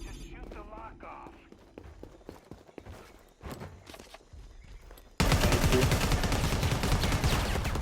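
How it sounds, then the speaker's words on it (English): Quiet shuffling and a few thuds give way to a sudden loud, dense burst of gunfire in Predator: Hunting Grounds as a lock is shot off, the shots rattling rapidly at close range, with voices talking earlier. "Just shoot the lock off."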